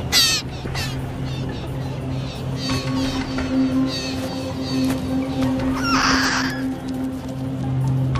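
Hispaniolan mockingbirds give harsh, raspy calls again and again over a constant low background drone, with one louder, noisier burst near the end.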